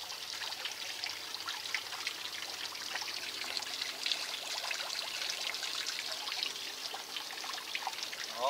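Steady trickling and pouring of water recirculating into a kiddie pool beside a homemade Miller table, a continuous close splashing stream with no talk.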